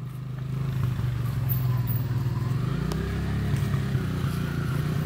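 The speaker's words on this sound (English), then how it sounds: "You're not revving it out high enough." A small dirt bike engine runs steadily with a low buzzing drone, not revved high, held at a fairly constant pitch with slight rises, close by and with no talking.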